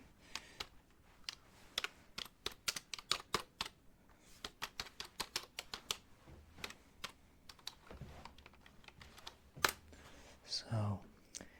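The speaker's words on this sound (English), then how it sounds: "So let me type that down for you." Rapid, irregular clacking of a computer keyboard being typed on up close in a quiet game store roleplay setting, with keystrokes in quick bursts and a few louder isolated taps near the end.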